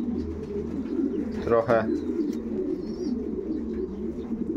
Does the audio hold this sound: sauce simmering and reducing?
no